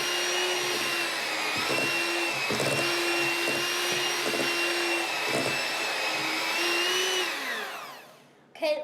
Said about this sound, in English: We only have a little bit more, so let's blend these together with our other mix.